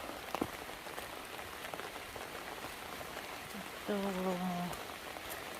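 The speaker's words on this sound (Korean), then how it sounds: "비가 와서" Rain falls steadily on a vegetable garden as a soft, constant patter; a person speaks briefly in a low voice near the end over a short tonal whine.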